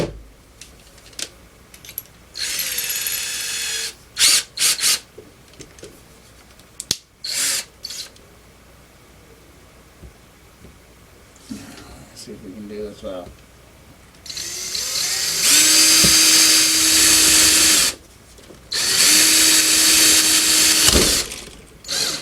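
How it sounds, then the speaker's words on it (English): Power drill with a 1/4 bit boring a hole in a plastic model kit part, with several loud whirring bursts of varying length separated by pauses, some handling clicks, and brief speech. "So we just got to drill that hole quick."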